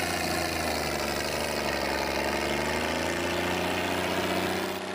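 Several tractor engines, both new models and old vintage machines, run at a steady idle near an Italian show, a loud continuous low drone with harmonic hum and occasional slight revving throughout, no talk.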